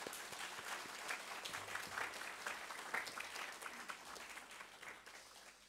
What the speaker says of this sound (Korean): 우리 다시 한번 우리 찬양대 격려의 박수를 하겠습니다